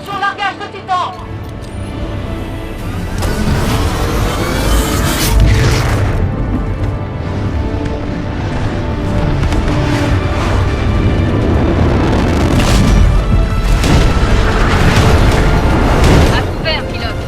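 A Titan drop landing during a Titanfall 2 battle: a heavy, loud booming impact rolls in over dense, continuous explosions and crashing combat noise, with game voices talking over the mayhem.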